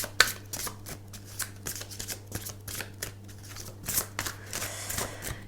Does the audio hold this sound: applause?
no